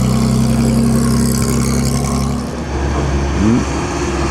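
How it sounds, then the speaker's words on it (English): A classic Aston Martin sports car at the Mille Miglia road race, its engine a loud, close, steady drone that eases slightly and then rises in pitch briefly near the end. "Aston Martin."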